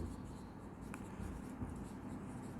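Pen writing on paper during an accounting lesson on financial statements, a steady soft scratching that runs the whole time at low level over a faint room hum.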